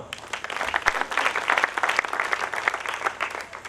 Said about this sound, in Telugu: ఒకసారి చప్పట్లు కొడదామా?